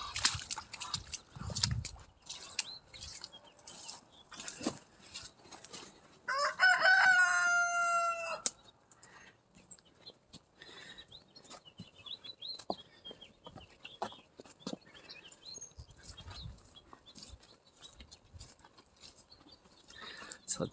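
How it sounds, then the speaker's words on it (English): Chickens on a farm cluck and a rooster gives one loud, clear crow partway through, over a scatter of nearby clucks, scratching and soft farmyard noises. "Chickens hanging out here where we're going to put the lambs."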